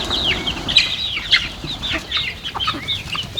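Cochin chicks of all colours cheep and cluck continuously inside a barn, a busy overlapping chorus of high peeping calls heard close and loud with no talk.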